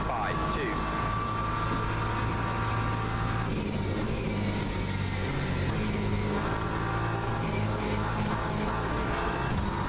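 A race car engine in Le Mans Ultimate revs and accelerates, a steady mid-pitched roar running loud and continuous with a short shift in tone partway through, while a voice talks over it.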